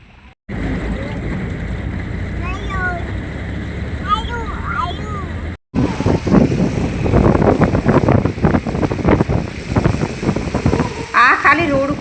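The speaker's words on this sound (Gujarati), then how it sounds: "અહીંયા તો વરસાદ એટલો ફૂલ હે ને" Heavy rain pours down on a waterlogged highway near Diu, a constant loud hiss with wind buffeting, while people talk over it throughout.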